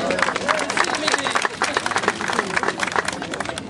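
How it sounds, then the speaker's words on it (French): An audience at a town twinning ceremony claps to welcome a writer, with lively, fairly loud applause mixed with crowd murmur and voices. "On l'applaudit."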